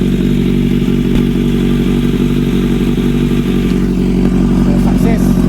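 A Kawasaki Z900 motorcycle engine starts and runs after a fuel pump repair, giving a loud, steady mechanical rumble throughout with a brief clatter. Voices are faintly audible beneath it.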